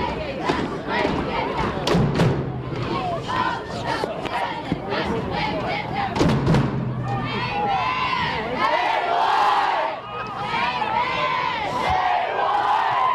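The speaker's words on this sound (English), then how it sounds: "Pretty obnoxious chant coming from the crowd" A college football crowd at an away game at Belmont chants loudly in rhythmic shouted bursts, with thumps and cheering mixed in, while commentators talk over it.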